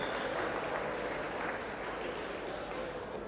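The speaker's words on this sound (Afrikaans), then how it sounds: "Kom ons gee hom 'n lekker hande klap." An audience claps for a third-place winner at a potjiekos cooking competition at an outdoor expo. The applause is soft and sustained, heard from a distance, with voices over it.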